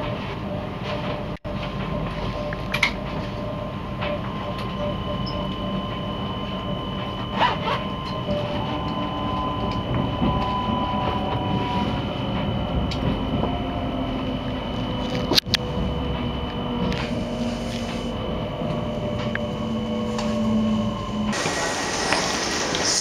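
Steady rumble of a Dutch train interior near Tilburg with rattling rail noise and occasional clanks and squeaks, continuous and fairly loud throughout.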